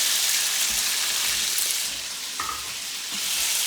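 Pasta sizzles steadily in a hot pan with butter, a dense, continuous frying hiss with faint stirring clicks, close and loud throughout.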